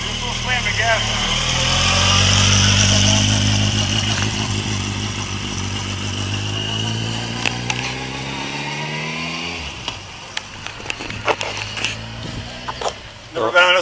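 A sport bike's engine revs hard as the throttle is slammed, rising and falling in pitch with rapid fluttering bursts toward the end, loud and close, with voices heard around it.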